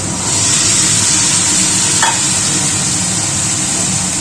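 Skin-on potatoes cut into chunks hit hot oil and spice paste in a pan, giving a loud, steady sizzle with a brief scrape of stirring partway through; no one speaks.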